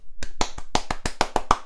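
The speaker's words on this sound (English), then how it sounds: "Applause sound effect." A short applause sound effect made of about nine crisp, separate hand claps in an uneven rhythm, close and dry, with no crowd behind them.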